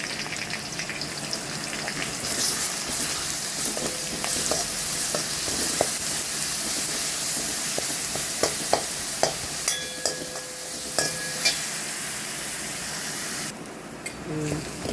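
Ginger garlic paste and green chili fry in oil with a continuous close sizzle. Scattered clinks and scrapes of stirring recur throughout, and near the end the sizzle briefly drops away.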